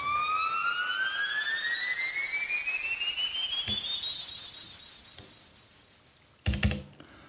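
A bright synthesized tone from an Elektron Digitone, driven by an LFO ramp, glides steadily upward a perfect octave over several seconds, ending with a brief clattering burst.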